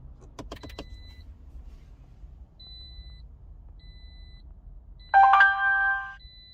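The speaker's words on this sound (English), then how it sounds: "the startup noises for this dashcam is kind of annoying, or can be annoying to some people" A BlackVue DR750X-2CH+ dashcam plays its startup sounds inside a car: a few quick faint ticks, sparse soft beeps, then a loud bright chime melody near the end.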